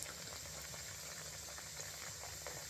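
Nimki, a crisp flaky flour snack, frying in oil over a low-to-medium gas flame, giving a steady soft bubbling sizzle with faint crackles and no talking.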